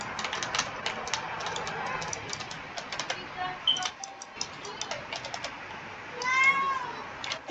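A cat meows several times close by, with a long drawn-out meow near the end, while computer keys tap rapidly in the background.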